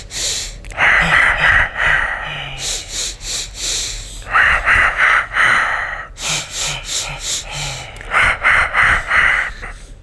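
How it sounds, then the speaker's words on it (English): Deliberate breathing, inhaling through the nose and exhaling through the mouth, in a repeating rhythm of sharp, hissing breaths and pauses, close and loud, with no talk. "Inhale with the nose and exhale with your mouth."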